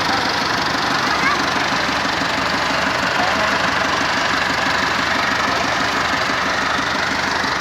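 A tractor engine runs loud and close in a continuous rumbling idle, with a rapid knocking throb underneath.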